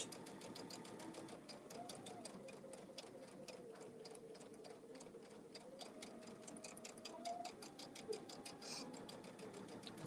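A sewing machine stitching along a crocheted edge runs with a fast, even mechanical clatter and hum throughout, fairly faint, with a little quiet talk mixed in.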